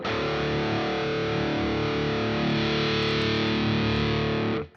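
A harsh, buzzing distorted metal guitar tone from an amp plugin, one sustained chord ringing thick and bright, loud and steady before cutting off abruptly.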